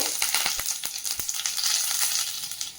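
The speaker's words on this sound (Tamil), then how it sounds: "கடுகு எண்ணெய் காஞ்சோன்னா கடுகை போடுங்க. கடுகு போட்டு கருவேப்பிலை ஆட் பண்ணிவிட்டு" Mustard seeds and curry leaves sizzle in hot mustard oil in a kadai, a loud, close, continuous crackling hiss broken by sharp pops and spits, with no voices.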